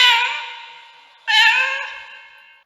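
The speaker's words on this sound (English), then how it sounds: "whenever I click on the cat photo, it is going to make the cat sound and vibrate the mobile" A phone app plays a recorded cat meow twice, each one a loud, clear, drawn-out cry that slowly fades away, with a short gap between them.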